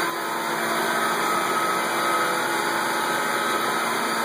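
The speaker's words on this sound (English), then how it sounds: "Bandsaw cutting blanks." A bandsaw cuts blanks in a busy CNC garage shop while other machines run, producing a steady, loud broadband whine and hum with no pauses across the clip, no talk.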